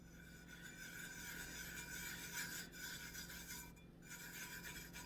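A hand rubs the bottom of a glitter tumbler, giving a steady dry rasping scrape with a brief pause, close and fairly quiet.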